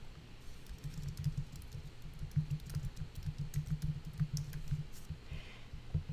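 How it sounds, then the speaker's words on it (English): Keyboard typing in a quiet room during a statistics lesson, a quick irregular patter of soft key clicks, faint and close, with no talk. "I'm just getting my typewriter."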